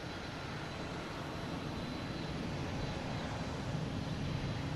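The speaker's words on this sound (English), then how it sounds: "Heading to Amsterdam, an A330-900, flight 242." Delta Airbus A330-900 jet at Boston Logan airport, a broad steady engine roar heard from a distance, fairly faint and unbroken for the whole stretch.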